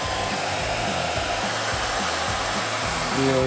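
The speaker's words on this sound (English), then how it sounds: "Go ahead, take this blow dryer, heat it up a little more before we stick it on." A blow dryer runs steadily and loud from start to finish, with the motor tone rising slightly near the end as it heats adhesive tape for a rear wing spoiler going onto a 2016-2024 Camaro.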